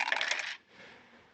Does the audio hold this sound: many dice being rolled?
yes